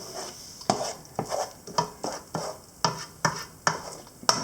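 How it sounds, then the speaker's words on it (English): A spoon scrapes and stirs a tomato paste mix in a pot, the heat just turned off, giving about ten distinct scraping strokes in a steady rhythm, close and fairly loud, with no talking. "Stir it up again. Make sure I don't got nothing sticking on the bottom."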